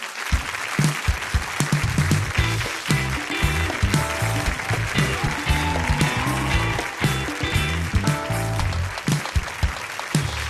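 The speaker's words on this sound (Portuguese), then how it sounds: "Aplaudam Luiz Antônio Aguiar." Audience applause for a guest author at a literary talk, a loud continuous clapping mixed with heavy low thumps and rumble, sustained throughout without speech.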